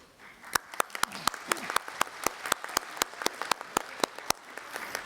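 Sparse audience applause at an aviation security conference session, with separate, evenly spaced hand claps ringing out over a quiet room and faint murmuring underneath.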